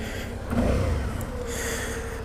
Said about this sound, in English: I like the way the engine sounds.